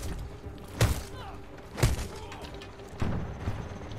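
Grenade blasts in Titanfall 2 hit as three separate thudding explosions, each a sharp broadband crack with a short rumble, spaced about a second apart over quiet game ambience.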